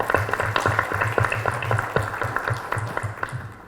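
Applause from the audience at a livestock-farming training session in Santiago del Estero, Argentina: steady hand clapping that holds for about three and a half seconds, then begins to thin out toward the end.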